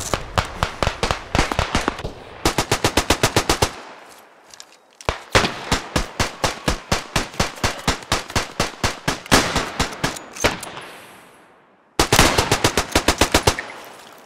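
A Chauchat light machine gun fires in the First World War shooter Beyond the Wire: loud, close rapid bursts of evenly spaced shots broken by short pauses, with no talking.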